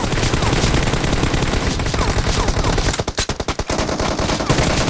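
Rapid machine-gun and rifle bursts fire in the mobile battle royale game PUBG Mobile during a team deathmatch, loud and dense, with a choppier run of distinct shots near the end.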